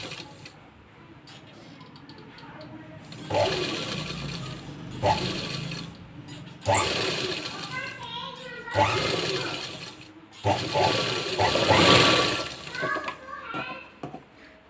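A sewing machine stitches the border and lining of a boat-neck blouse in several bursts of mechanical whirring separated by short pauses, with someone talking and children's voices in the background.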